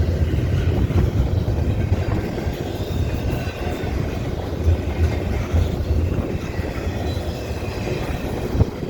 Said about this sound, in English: Looks like a long train.